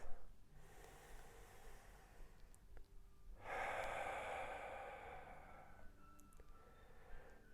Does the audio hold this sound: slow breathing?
yes